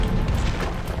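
A dynamite explosion in the video game Wanted Guns, a short, loud, booming blast with heavy low rumble, close and alone.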